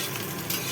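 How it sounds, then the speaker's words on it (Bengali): Bitter gourd fries in a pan, giving a short burst of dense, steady oil sizzle heard up close, with no talk. "দেখো উচ্ছাটা ভাজা ভাজা হয়ে এসছে।"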